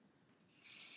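A short burst of pixie spray hisses onto a paper-crafting stencil, a sudden bright, steady aerosol spray starting halfway through after quiet room tone.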